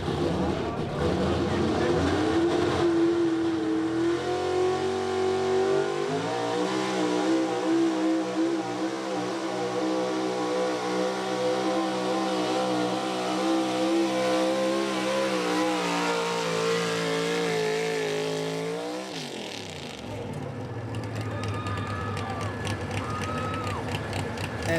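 A big block 4x4 truck makes its winning racing run at a night event, its engine roaring steadily with harmonic revving for about twenty seconds before cutting off, while an announcer talks over it.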